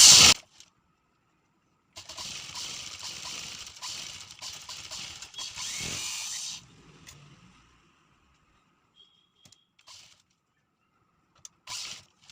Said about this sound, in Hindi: जितनी मोटी पाइपिंग निकालना है उसी हिसाब से दबाव देते हुए हमें सिलाई लगाना है